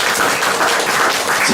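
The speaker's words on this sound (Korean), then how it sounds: "자, 우리 김정민 박사님한테 우리와 같은 박수 한번 부탁드리겠습니다" Dense, loud applause from a lecture audience welcoming a guest lecturer, a continuous close wash of many hands clapping with no break.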